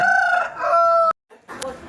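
A rooster crows loudly and close by in one long call, then a short pause and a brief cluck.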